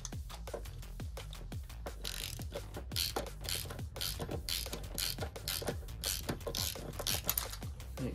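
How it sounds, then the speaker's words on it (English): A ratchet tightens a bolt on a Citroen C1 during catalytic converter replacement, giving close, rapid clicking pawl strokes in a steady repeated rhythm throughout. "I'm just working up here, tightening the bolt down."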